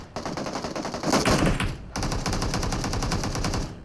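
PUBG Mobile gunfire during a competitive squad scrim among trees: dense, rapid automatic fire, loud and close, with a brief break near the middle before the shooting resumes.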